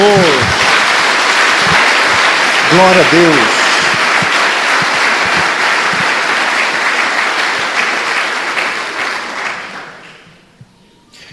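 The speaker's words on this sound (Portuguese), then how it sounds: "Dê uma salva de palmas ao Senhor" A church congregation gives loud, sustained applause during a sermon, with shouted praises from a voice over the clapping, which fades out near the end into quiet.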